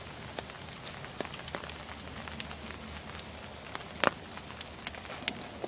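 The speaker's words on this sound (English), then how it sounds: "here comes the rain" Steady rain patters on leaves and ground in the woods, with scattered sharper drops landing nearby.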